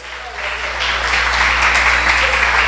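A church congregation breaks into applause, clapping that swells from moderate to loud over a couple of seconds over a steady low hum.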